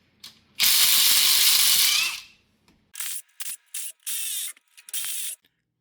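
Ratchet wrench with a socket works on cylinder head bolts of a cracked-head 6.5 Detroit Diesel, first one long loud burst of clicking, then several short quick ratcheting bursts, close and alone.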